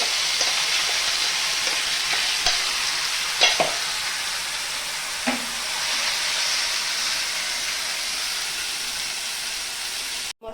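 Garlic paste and spices frying in hot oil, a steady sizzle with a few sharp clinks and scrapes of stirring before it cuts off abruptly at the end.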